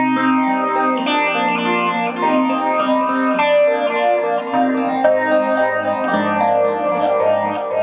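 Electric guitar on the bridge pickup played through a phaser pedal, sustained chords ringing with a sweeping, phased shimmer, steady and fairly loud with no voices.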